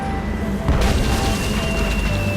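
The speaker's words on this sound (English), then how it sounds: "it's one of those spiffy new Hungarian easy-action cannons I've been begging Elaine to let me buy" A cannon fires in the video game Tales of Monkey Island, a sudden loud boom over steady game music and ambience, followed by a sustained rumbling tail.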